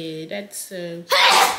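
A person speaks a few words, then lets out one loud, close sneeze at the end.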